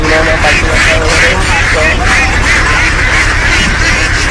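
Ducks quacking in a busy wholesale duck market, a dense, continuous chorus of calls close by with steady crowd noise throughout.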